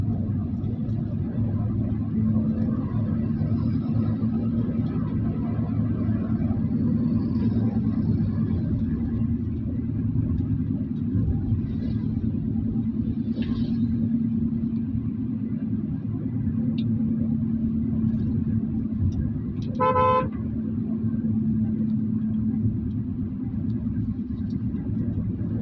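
Heavy road traffic rumbles steadily along a tree-lined highway, with passing car engines and one brief horn blast near the end. The sound stays low and constant throughout.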